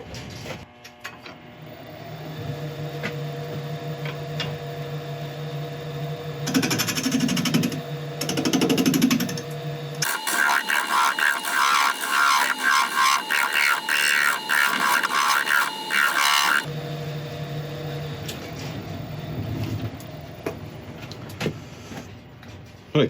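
Carbide tool cutting solid aluminium on a wood lathe: a steady motor hum under short bursts of cutting, then a long, harsh, loud grinding chatter for several seconds before the quieter lathe hum returns.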